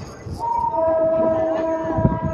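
Palnadu superfast express train running out of Nalgonda on a single track, a steady loud rumble of wheels and carriage with a sustained horn tone held over it, heard from on board.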